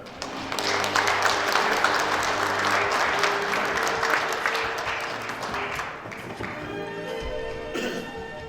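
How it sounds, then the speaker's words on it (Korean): A lecture audience gives a warm round of clapping for a guest speaker, building quickly and holding dense and steady for several seconds before thinning out near the end. "많은 박수 부탁드립니다."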